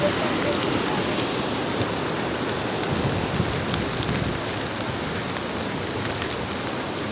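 Heavy typhoon rain and wind make a dense, steady roaring hiss that fills the whole clip, close and constant with no breaks and no voices.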